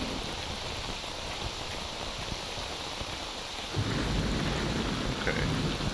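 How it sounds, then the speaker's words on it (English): Heavy rain pours down steadily in the STALKER Anomaly game world, then a deep rumble of thunder rolls in partway through and swells louder, with no talking. "This rain is really coming down."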